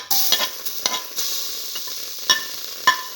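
Tomato pieces drop into a hot sizzling pan and are stirred, giving a bright frying hiss broken by several sharp scraping and clinking strokes of the spoon.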